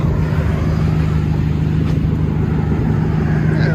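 A 2014 Ford Fusion 4-cylinder with a Cherry Bomb mid muffler, muffler and resonator deleted and a 4-inch tip idles close by with a steady, deep droning exhaust hum.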